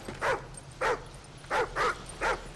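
A dog in the Call of Duty Ghosts video game gives five short, soft whimpers in an uneven rhythm over a low background rumble, with no speech.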